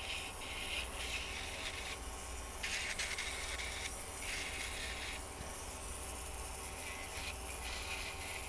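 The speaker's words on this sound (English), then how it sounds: "I like to go in with my drill bit, and I like to just go in and take whatever excess gel or whatever's left behind." An electric nail drill bit grinds away leftover gel around the nails and cuticles, making a steady close whirring buzz with a scratchy sanding edge that shifts in pitch as pressure changes.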